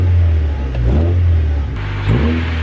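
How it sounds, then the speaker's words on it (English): A car engine gets a couple of short, gentle revs outdoors, the loud low rumble swelling and easing twice before settling back to idle, with no talk over it. "Let's give her a couple little baby revs to see how she sounds."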